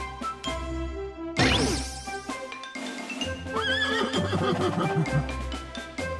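Farm horse neighing loudly in a long shrill whinny, followed by snorting and lower nickering, with faint hoof clops and a tinkling sound under it, close and prominent.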